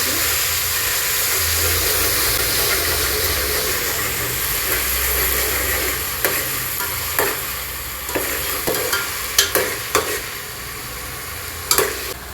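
Ginger garlic paste and mixed vegetables sauté in a hot pan for vegetable pulao, with a constant close sizzle and hiss, joined in the second half by a few sharp scrapes and clinks of a spoon stirring.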